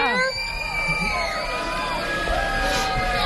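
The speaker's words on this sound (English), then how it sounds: "this is the Lamar Lions cheer team. Let's hear a cheer." Young children of the Lamar Lions elementary school cheer team shout and whoop together at an outdoor Veterans Day parade, a crowd of high, excited voices rising in overlapping yells with general chatter around them.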